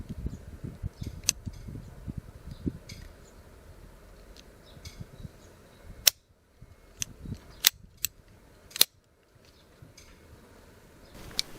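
Hand shears snip a Leyland cypress hedge outdoors, giving a few sharp, separate clicks in the second half, with bird calls and a rustling background throughout.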